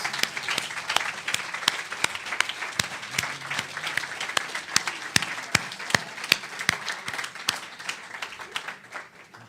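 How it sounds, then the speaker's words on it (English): Audience applause during a Sunday church service, steady sustained clapping from a congregation with sharp individual claps standing out, continuing for the whole stretch with no speech. "Can we give Reverend Dr. Michelle another round of applause?"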